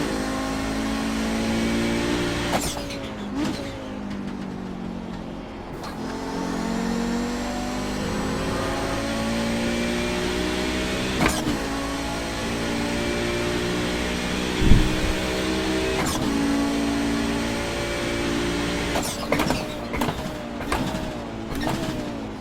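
Race car engines circling a track in the iRacing sim, an Audi GT car at Summit Point, with a steady close engine drone rising and falling through gear changes while other cars pass with sharp whooshes.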